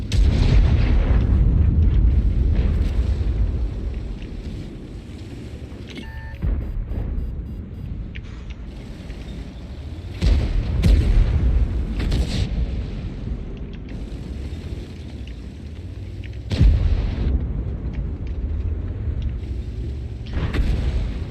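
Artillery fire in the World of Tanks video game: loud, deep booms land every few seconds over a rumbling engine-and-battle background, with no one speaking.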